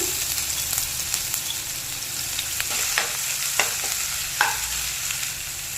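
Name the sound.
onion, green chili, ginger-garlic paste and five-spice frying in oil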